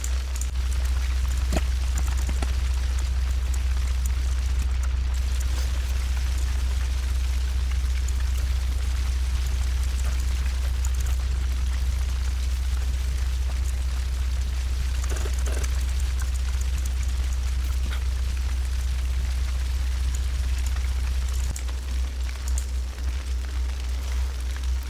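Molten metal poured in TerraFirmaCraft, a Minecraft mod: a steady, soft trickling pour with faint crackling, over a constant low hum, continuing for the whole stretch with only small variations.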